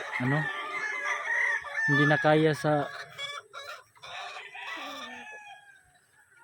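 Stag and cockerel roosters crow loudly nearby on a backyard farm with clucking hens around, several overlapping calls in a row, while someone speaks briefly.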